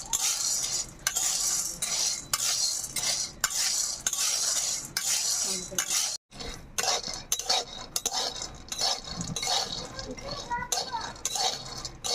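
A spatula keeps stirring kabuli chickpeas as they roast in a kadai, producing near, continuous scraping with metallic clinks and rattling grains, briefly halting about midway before resuming.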